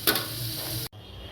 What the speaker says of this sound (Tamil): ப்ரௌனிஷ் கலர் வர வரைக்கும் ஃப்ரை பண்ணி எடுக்கணும்.